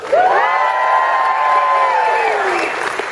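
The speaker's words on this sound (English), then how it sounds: "Dang, that is a good cheer, Dragon Con" A large convention crowd at Dragon Con cheers and whoops loudly for about three seconds, a dense wash of shouting voices with rising and falling yells over applause.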